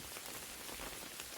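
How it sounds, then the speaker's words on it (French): Steady rain drumming on an umbrella outdoors in the woods, a dense, even patter close by with no voices. "je m'excuse pour le bruit de la pluie"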